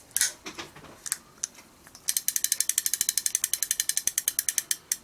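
A vintage fishing reel's ratchet, slightly loose, gives a few scattered clicks, then a steady run of rapid, evenly spaced clicks as the spool turns, close and fairly loud.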